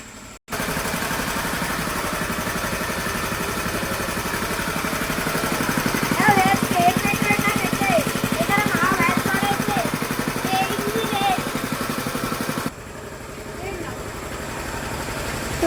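A petrol engine powers a cow milking machine, running steadily for the whole stretch with a constant low hum and throb, while voices are faintly heard over it.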